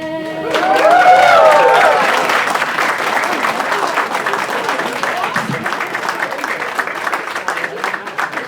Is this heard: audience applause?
yes